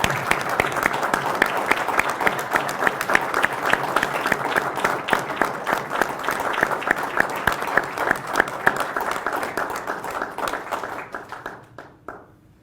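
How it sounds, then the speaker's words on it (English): An audience at a June 2020 law enforcement academy graduation ceremony gives the graduating class sustained, dense applause of many hands clapping together, which fades out abruptly at the end. "Give them a round of applause,"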